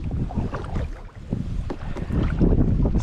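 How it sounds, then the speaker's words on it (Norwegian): Gusty wind buffets the microphone while a small boat drifts across a lake in Norway, producing a loud, uneven rumble with faint water movement and no talking. "Men så kom det selvfølgelig vind nok."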